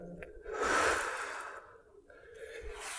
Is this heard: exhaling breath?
yes